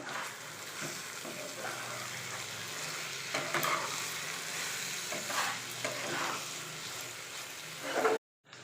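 Mutton mince with garam masala and kasuri methi being stirred in a pan, a continuous soft sizzle with scraping strokes, fairly quiet and close, ending with a brief louder scrape before cutting off.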